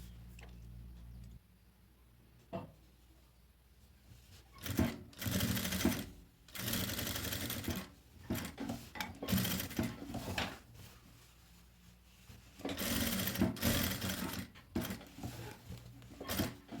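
Sewing machine stitching the hem of a child's dungarees in several sustained bursts of steady, fast whirring, broken by short pauses; close and moderately loud.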